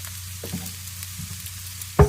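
Leftover fried rice stir-frying with garlic and onion powder, a low steady sizzle with a few soft stirring scrapes and a sharp utensil knock at the end.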